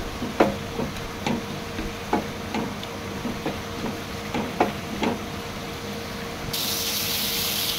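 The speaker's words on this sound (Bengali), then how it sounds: "সবগুলি একসঙ্গে নেড়ে চেড়ে ভাজি করে নেব।" Pabda fish fries with dried chili, salt and turmeric while a utensil stirs and scrapes the pan in light, irregular taps over a soft, steady sizzle, ending in a brighter hiss.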